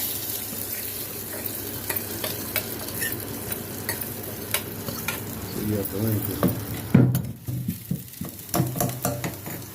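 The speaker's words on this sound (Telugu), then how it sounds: "పోపు వేసి వస్తున్నాను" Tempering spices, including asafoetida, crackle and sizzle in hot oil with sharp pops scattered throughout, getting busier toward the end, with some faint stirring sounds underneath.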